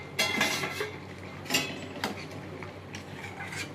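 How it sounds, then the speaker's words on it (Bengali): A lid is lifted off a pan of egg omelette curry, bringing a few close metallic clinks and scrapes, one sharp knock near the start and another midway, over quiet kitchen background. "এবার আমি ঢাকাটা খুলবো, দেখবো হয়ে গেছে কিনা।"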